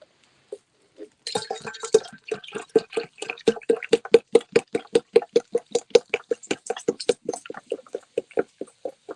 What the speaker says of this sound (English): Pour myself a soda.